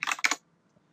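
A few quick keystrokes tapped on a computer keyboard, close and crisp in a brief burst, followed by quiet.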